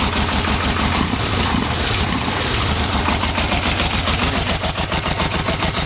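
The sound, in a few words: Yamaha V-Max motorcycle engine idling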